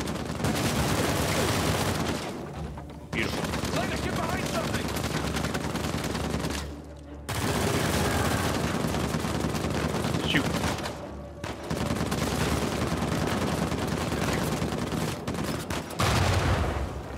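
Sustained gunfire from a weapon in Uncharted 4, with dense continuous bursts that stop briefly at a few short pauses and then resume, loud and close.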